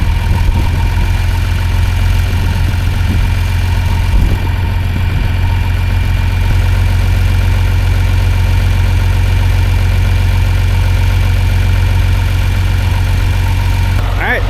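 A tractor engine runs at a steady idle close by while the corn picker is being moved, a loud continuous low rumble and vibration throughout with no change in rhythm.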